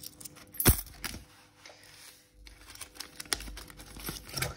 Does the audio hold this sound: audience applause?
no